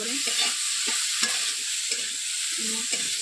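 A vegetable curry with peas, garlic and coriander is stir-fried in a pan: close, crackling sizzle under repeated scraping and stirring strokes in an irregular rhythm.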